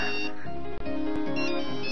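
A mobile phone ringtone plays loudly and continuously in an indoor scene from a Bollywood Hindi film, a dense electronic melody with steady tones and no speech.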